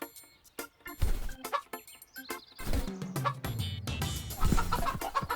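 Cartoon chicken clucking in a series of short, bright calls and squawks with brief gaps between them, close and clear, without any talking.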